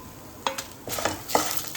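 Ginger, garlic and tamarind fry in a pan with a steady close sizzle, broken by a few short stirring scrapes and clinks of a utensil, with no voices.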